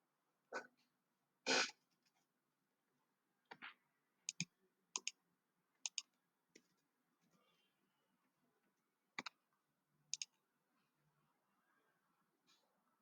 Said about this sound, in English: Let me type it out